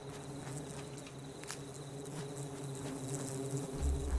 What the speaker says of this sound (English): It's a bee swarm